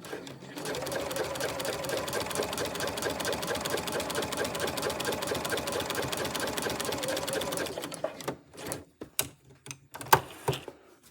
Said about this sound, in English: I'm just going to sew this now with the walking foot.